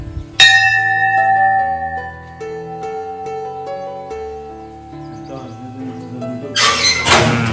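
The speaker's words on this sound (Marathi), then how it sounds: "घंटा वाजल्याच्या नंतर दोन मिनिटं घंट्याच्या खालीच उभा राहायचा" A large temple bell at a village temple in Konkan rings out loudly with long, humming resonant tones that slowly fade, followed by a brighter, clattering clang near the end.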